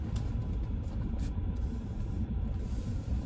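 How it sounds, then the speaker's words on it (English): A car being parked, its engine giving a low steady rumble from inside the cabin, continuous and fairly loud, with no talk. "let me just park this car here"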